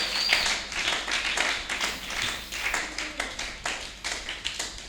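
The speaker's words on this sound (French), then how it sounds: "Acclamons très fort pour le roi." A church congregation claps in a steady rhythm during a Sunday thanksgiving service, dense overlapping hand claps filling the room with a lively, continuous patter.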